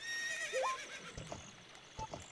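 Epona, the horse in a Zelda game, lets out a clear whinny with a rising-and-falling pitch, followed by a few soft hoof clops and a short second snort, fairly close and alone.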